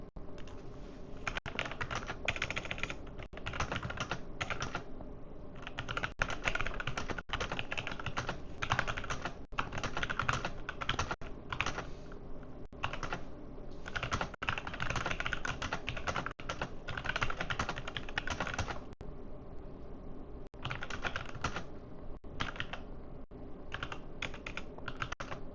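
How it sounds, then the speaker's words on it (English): Someone types steadily on a computer keyboard for about half a minute during a gaming live stream, a dense run of close clicks and key taps with a few short pauses and no speech. "I am typing"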